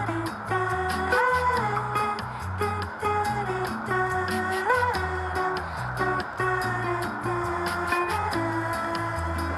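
Motorway traffic heard through Denon headphones with noise reduction on, a steady subdued low rumble with faint tonal whine and gentle pulsing swells from passing vehicles, continuous and without speech.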